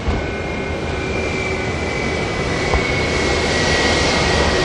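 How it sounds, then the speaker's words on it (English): A Delta heavy jet departs Auckland Airport, its engines a steady, loud, broadband roar that fills the whole stretch, with no voices. "Delta making its way out"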